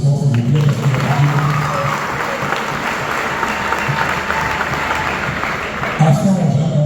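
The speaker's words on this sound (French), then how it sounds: "pour lequel je réclame des applaudissements, s'il vous plaît" Loud, full audience applause fills the room at a screening of a concert documentary, steady and dense, with a voice briefly audible at the start and again near the end.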